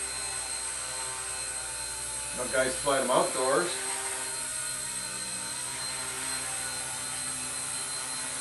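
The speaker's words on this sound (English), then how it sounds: "I guess it's a pretty nice little helicopter for sort of flying indoors." A Blade mCPX radio-controlled model helicopter flies outdoors on a windy day, its steady high whine running throughout, with someone talking briefly over it.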